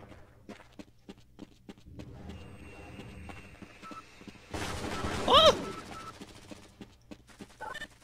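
Automated turrets fire in Half-Life: Blue Shift, producing a string of sharp gunshot bursts and clatter with a louder, dense volley midway, over quiet game ambience.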